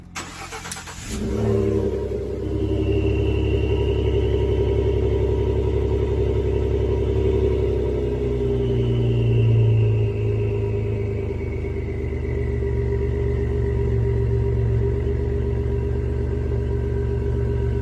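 A Ford F150 3.5L V6 EcoBoost pickup with an aftermarket exhaust idles with a deep, throaty exhaust rumble and a faint whistling turbo spool rising and fading above it, steady and close.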